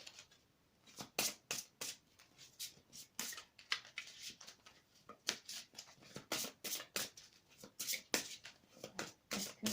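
Gaia oracle cards being shuffled by hand, a steady run of quick crisp riffling bursts repeating throughout at close range, with no talking.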